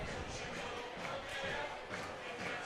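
A Michigan soccer crowd at a men's match against Penn State keeps up a steady, broad roar of cheering and shouting ahead of a penalty kick, heard from a distance as a dense, continuous wash.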